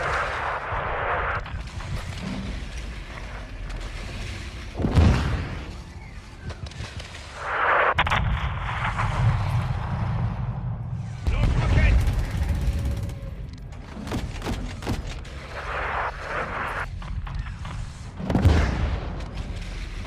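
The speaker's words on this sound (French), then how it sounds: "Poursuivez les tirs de roquettes que dans l'est." Rocket launcher and artillery fire in Call of Duty: Modern Warfare 2, with repeated heavy booms and bursts of gunfire over a dense battle din, interspersed with radio-style voices speaking.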